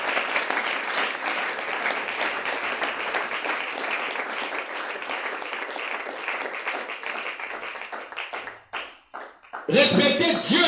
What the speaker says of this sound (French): Acclamez très fort pour le Seigneur.